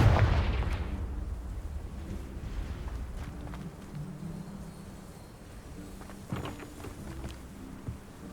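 A Confringo blasting spell cast in Hogwarts Legacy, opening with a loud, deep fiery burst that rumbles and fades into a low crackling tail with faint scattered pops.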